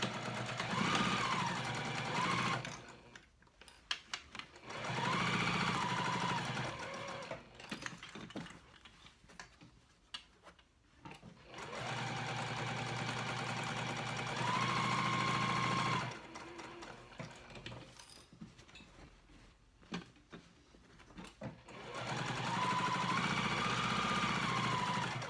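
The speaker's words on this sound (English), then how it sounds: "just flip it up to where just the pocket is showing, and I'm gonna stitch all the way around." Sewing machine stitching around a backpack pocket, running in long steady whirring bursts separated by short pauses, close and clear with no speech.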